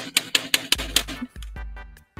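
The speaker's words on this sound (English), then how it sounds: "I'm just cleaning up my keyboard. Just fucking smashing it." Sharp clattering key strikes and thuds from a computer keyboard being smashed and hammered during a Halo gaming session, about six quick loud hits followed by heavier low bangs, with no talk.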